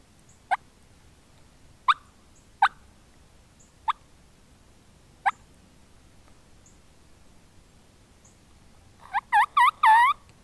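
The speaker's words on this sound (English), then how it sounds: "Turkeys." Sharp, isolated bird calls ring out at irregular intervals in a quiet outdoor setting near a field and woods, ending with a rapid, rattling wild turkey gobble nearby.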